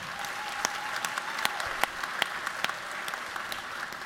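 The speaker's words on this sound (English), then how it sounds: "we can give her one more round of applause in here" Audience applause in a legislative chamber during a Georgia House session, steady clapping from many people at moderate distance with sharper individual claps standing out throughout.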